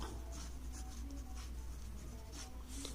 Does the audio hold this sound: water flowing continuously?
no